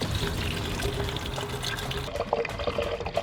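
Water poured out in a steady splashing stream, fairly close and continuous, with a few brief trickling bursts near the end and no speech.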